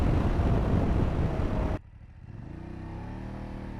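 A BMW F850GS motorcycle engine roars loudly under hard acceleration, then cuts off abruptly, leaving a lower, steadier engine hum with rising whine.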